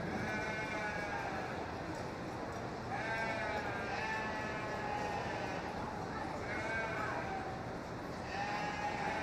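Sheep bleat again and again at a 4-H and FFA county fair sheep show, their calls rising in repeated bursts over steady crowd chatter and an announcer's voice.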